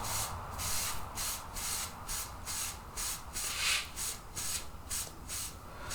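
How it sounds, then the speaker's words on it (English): A wooden drum shell of plain, low-grain wood being wiped down to lift off Varathane wood stain, with quick, even rubbing strokes repeating in a steady rhythm, close and fairly quiet. "I keep wiping it off, see if I can get a little more of the wood grain to show through."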